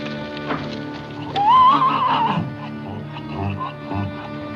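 Horses on a 1962 Western film soundtrack give one loud, rising whinny in the middle, with hoofbeats and general stable commotion running underneath from start to finish.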